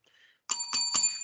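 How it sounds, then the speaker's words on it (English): A small bell, like a bicycle bell, rings three quick times, loud and close, after a brief faint sound, closing out a wrestling podcast. "There's the bell, so we know what that means."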